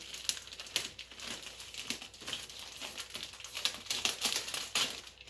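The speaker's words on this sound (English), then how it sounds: "Let's go ahead and unwrap this here." Packaging for a 2021 LG Gram laptop is unwrapped up close, with quiet, continuous crinkling and crackling of plastic wrap in quick irregular bursts, and no talking.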